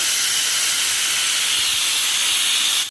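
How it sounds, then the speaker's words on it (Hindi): Chickpeas boil inside a cooker and release a loud, steady jet of hissing steam. The hiss is close, continuous and unbroken for about three seconds, then cuts off abruptly. "जिसमें उबल रहे हैं छोले।"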